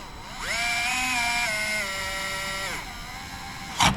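A power screwdriver drives a screw into material in a garage machine shop, its motor whining up in pitch, holding steady for about two seconds, then winding down, followed by a brief click at the end.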